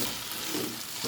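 Tomatoes and curry leaves drop into a pan of frying ivy gourd curry, giving a steady, close sizzle and bubbling hiss with a light stirring rustle throughout, no voices.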